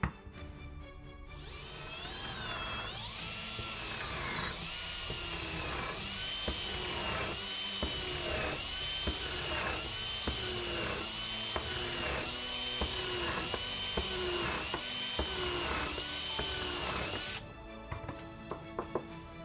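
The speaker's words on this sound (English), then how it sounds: "I'm just gonna see if it can put holes or countersink holes into the black walnut with ease." A cheap Temu countersink bit drills into a small piece of black walnut, giving a loud, sustained high-pitched whine with wavering pitch. It runs for about sixteen seconds and then cuts off abruptly.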